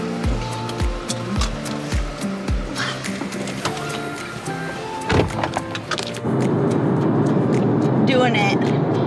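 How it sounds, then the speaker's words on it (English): A car driving along Barcelona city streets, with a steady road rumble and scattered tonal sounds, turning into a louder, broader wash of noise toward the end. "Becca is now driving in the city of Barcelona"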